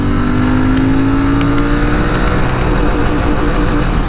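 A Royal Enfield Interceptor 650 BS6 motorcycle engine revs hard at the top end in second gear. The drone is loud, steady and close, with a slowly rising pitch and no speech.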